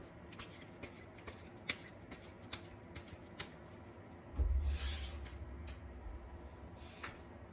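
Tarot cards are shuffled for a reading in a quiet room. Faint soft taps come first, then a brief riffling burst that trails into a soft rustle.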